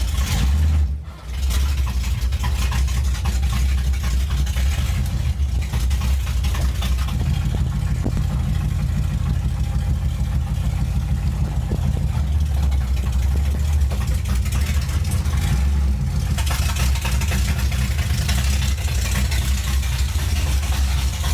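A car engine, apparently a Bel Air's, runs near and steady at a low rumbling idle for the whole stretch while the car is moved, with a brief dip early on.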